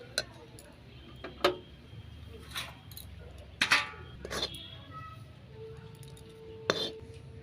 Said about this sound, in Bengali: এবার এটাকে নামিয়ে নেবো থালায়।